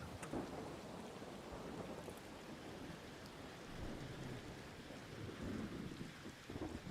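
An electromagnetic storm in a video game brings a steady hiss of rain with low, rolling thunder rumbles, heard on its own without speech and moderately quiet throughout.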